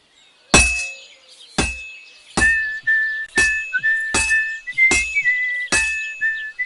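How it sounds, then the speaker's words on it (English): Blacksmith hammering a sword on an anvil in Kingdom Come Deliverance 2: seven loud, evenly spaced metallic clangs, each ringing on with a high sustained tone. "Now take the hammer and try hitting it a few times."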